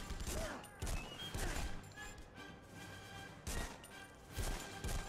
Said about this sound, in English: Who else is shooting at me?